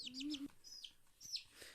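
High, bright peeps from a chick repeat in short bursts, fairly close, with a low hum and some light background noise between calls.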